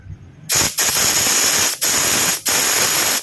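A loud hiss of air escaping from a tire in three bursts, deflating it from 45 to 33 PSI, each burst cut off briefly before resuming, close by with no voices.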